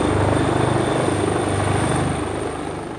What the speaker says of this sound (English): a helicopter came to drop off a mini excavator